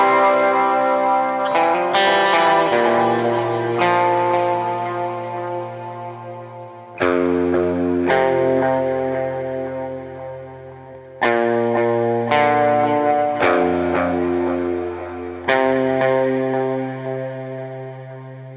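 Electric guitar lead line from a song, played through effects such as distortion, chorus and echo, with sustained notes rising and falling in repeated phrases, loud and alone.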